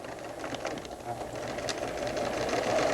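A sewing machine basting a quarter-inch seam on a sweater, its fast mechanical whir running steadily and growing slightly louder over the short span, with no one talking.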